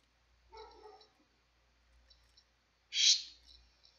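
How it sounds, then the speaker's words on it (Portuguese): A dog barks a few times at a distance, short separated yaps in a quiet room, with one louder sharper bark near the end. "o cachorro não para de latir."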